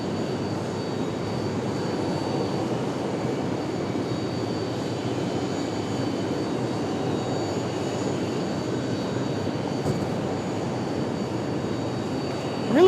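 Airliner jet engines rumble at Raleigh Durham airport, a steady broadband roar that holds without a break, moderately loud and a little distant, with no talking.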